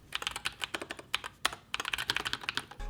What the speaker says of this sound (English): my main one is this NuFi Air 96. I really just dig the pop of color, and the switches sound like soft rain on a tent.